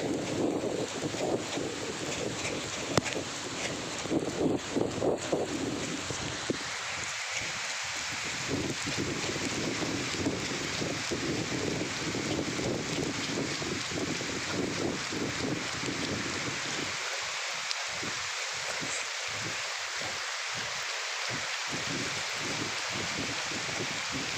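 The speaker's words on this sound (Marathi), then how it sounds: "पाऊस आला जोरात." Heavy rain pours down in a continuous broadband roar during an outdoor run, with wind buffeting the microphone throughout and no speech.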